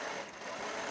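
Sewing machine stitching an Anarkali dress, running in a steady fast whir at close range for under a second.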